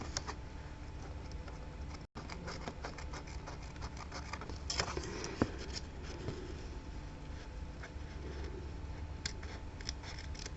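Scissors snip repeatedly through thick ribbon at the edge of a card. The cuts come as a steady series of close, quiet clicks and crunches with light paper rustling and no talk.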